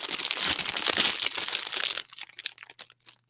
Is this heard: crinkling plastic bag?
yes